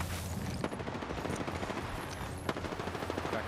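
Rapid automatic gunfire in an Apex Legends match, dense bursts of shots close and loud, with sharper cracks standing out and no voices over it.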